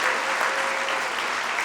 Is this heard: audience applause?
yes